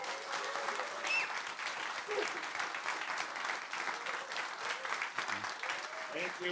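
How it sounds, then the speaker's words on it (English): An audience claps steadily at an event held by a Tesla owners' club in Austria, a dense, even round of applause with many hands that holds at a constant level throughout. "Let's give them a round of applause."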